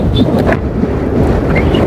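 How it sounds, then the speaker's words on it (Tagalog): Strong wind roars and buffets steadily across the whole stretch during a bicycle race, a constant low rumble with no clear pauses. "Malakas yung hangin."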